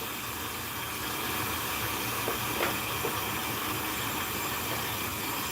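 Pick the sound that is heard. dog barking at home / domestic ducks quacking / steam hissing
steam hissing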